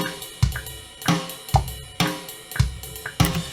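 A programmed Addictive Drums MIDI beat with extreme humanized timing offset, so the hits land loose and off the grid. Kick and snare strikes repeat roughly every half second, with cymbal wash ringing over them, alone and at close range.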